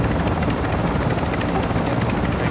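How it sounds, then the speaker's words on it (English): A heavy chopper in a video game flies continuously, a loud dense rotor thrum with steady beating and no pause, close and alone without talk. "Running around in a heavy chopper."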